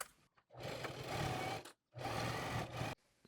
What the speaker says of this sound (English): we're going to have to sew them together. So we'll go around the perimeter with a 1/8 inch seam